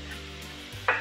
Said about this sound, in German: Rösten den Reis ein wenig mit an.